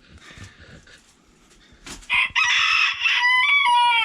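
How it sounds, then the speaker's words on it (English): A rooster crows loudly and close by, one long drawn-out call after a few soft clucks and rustling in the background. "There's a rooster"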